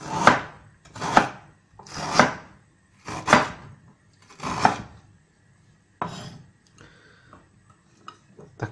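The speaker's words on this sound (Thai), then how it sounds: "แล้วเรามาหั่น ขา นะครับ ให้เป็นแว่นๆนะครับ" A knife chops food on a cutting board: about six steady, evenly spaced strikes, followed by a few lighter, scattered taps.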